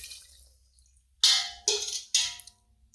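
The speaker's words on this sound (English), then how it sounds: "now using the ladle, we're going to fill the jars up the rest of the way with liquid" Soup liquid is poured from a ladle into canning jars while pressure-canning beef vegetable soup, heard as three close, splashy pours separated by brief pauses and faint clinks.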